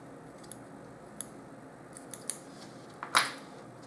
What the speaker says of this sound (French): On coupe l'excédent avec le ciseau.